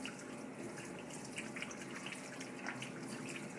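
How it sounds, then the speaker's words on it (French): Tap running for handwashing, a soft steady stream of water splashing into a sink, faint and continuous with small irregular spatters. "Donc, premièrement, vous ouvrez de l'eau."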